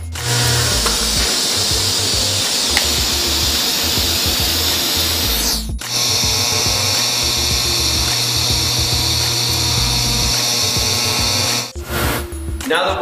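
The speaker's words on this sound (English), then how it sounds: "Now we'll weld the neck, but make sure you jump around so you don't put too much heat into one area." Arc welding of a steering neck onto a Harley bagger frame, a loud, continuous broadband crackle and hiss that runs steadily, breaking off briefly near the middle and again near the end before resuming.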